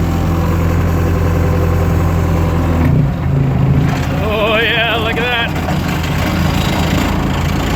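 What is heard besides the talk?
roller compactor engine running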